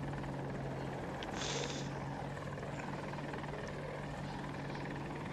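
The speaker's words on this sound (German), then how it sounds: "Heli kommt. Transport Heli." A transport helicopter in a war video game flies overhead, a steady loud rotor and engine roar filling the whole stretch without a break and no voices.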